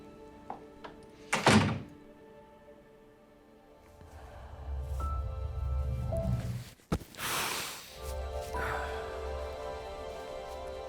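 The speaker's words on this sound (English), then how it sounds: "close that door" In a scene from the film Hidden Figures, a door shuts with one solid thunk near the start, followed by quieter room sounds, a low rumble and a brief burst of noise.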